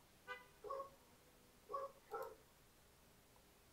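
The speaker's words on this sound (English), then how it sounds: "I hear a dog that's barking a lot." A dog barks four times in two quick pairs, moderately distant and fairly faint, over a quiet background with no talking.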